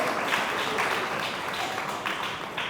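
An audience at a Hindi church teaching session in Kharagpur applauds, a dense continuous patter of many hands at close range lasting a few seconds, with no voices over it.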